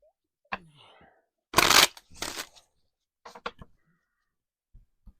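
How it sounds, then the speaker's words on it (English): Tarot cards being shuffled by hand in a few short riffling bursts, loud and close, with brief pauses and a few small taps between them and no talk. "I did shuffle before I started the video. I'll do a couple more."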